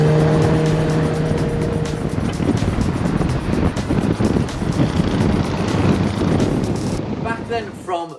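A road-legal go-kart fitted with a motorbike engine revs loudly and continuously, its harsh engine roar steady and close for most of the run before tailing off near the end, with wind buffeting over it.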